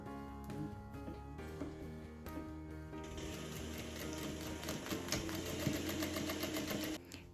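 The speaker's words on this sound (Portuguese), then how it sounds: "Vou fazer aqui a união do viés, uma costurinha reta mesmo." A domestic sewing machine runs a straight seam joining bias binding on a fabric bow holder, starting with a few hesitant clunks before settling into a fast, steady mechanical whirring chatter up close, then stopping.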